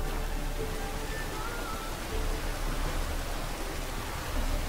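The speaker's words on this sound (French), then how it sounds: "Donc déjà il pleut." Steady rain pours down outdoors at a pre-dawn flea market, a constant broadband hiss with no pauses that fills the whole scene at an even loudness.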